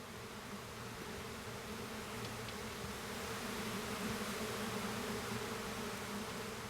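Flies and bees buzzing, a continuous low droning hum that stays steady and fairly faint throughout with no pauses.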